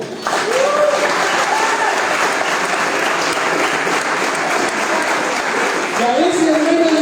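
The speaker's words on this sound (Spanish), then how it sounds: "Vamos a un fuerte aplauso a Nicolás." A church congregation claps loudly for a man named Nicolás during a Spanish-language sermon, a dense, sustained round of applause lasting several seconds with faint voices rising near the end.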